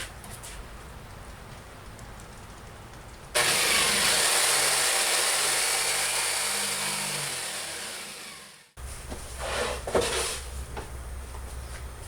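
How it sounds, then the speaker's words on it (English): A jigsaw cuts through an aspen wood panel, a loud buzzing saw run of about five seconds that starts abruptly, gradually fades, and then stops, followed by clattering handling noises. "I'm going to cut them off with a jigsaw"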